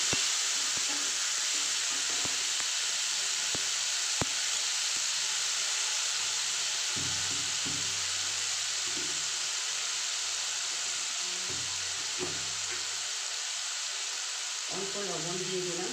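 Halved tomatoes fry in a pan with lentil dal and squash, giving a steady, even sizzling hiss that runs unbroken throughout at moderate volume.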